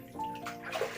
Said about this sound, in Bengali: আমাদের পুরোনো বাথরুমে চৌবাচ্চা করা আছে, ওর মধ্যে নেমেছে ওরা স্নান করতে।